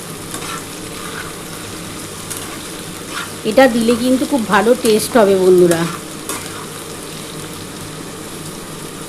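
Onion, potato and finely chopped garlic fry in a pan with a steady crackling sizzle and stirring scrapes, while someone talks briefly over the cooking.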